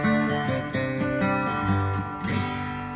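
A tensioned wire railing cable is plucked repeatedly in a quick rhythmic series of close, ringing metallic twangs, each note humming with bright overtones and sustaining as it decays.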